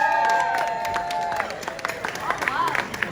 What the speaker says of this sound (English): what a warm applause.